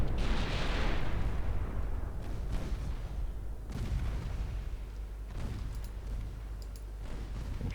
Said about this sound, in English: Four-inch guns are opening up on Hagen, which has now launched torpedoes.